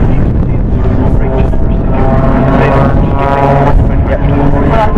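Blades aerobatic team aircraft fly in formation at an air display, a loud steady engine drone with a rising and falling tone, while a commentator talks over it.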